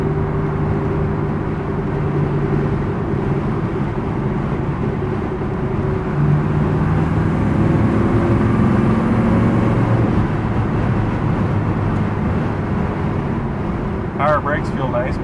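Engine of a 1963 Corvette Coupe cruising on the road, a steady low droning hum with faint tonal shifts, continuous and unbroken throughout, heard from inside the car under light background noise.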